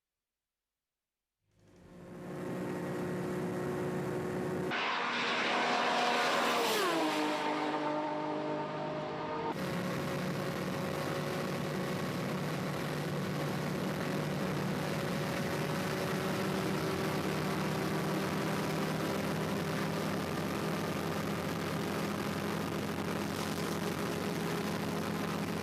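A drift car fitted with an engine taken straight from a 0300-spec R33 GT-R roars in after a moment of silence, its pitch sweeping up and back down before settling into a sustained loud drone at a D1GP event in Odaiba, Tokyo.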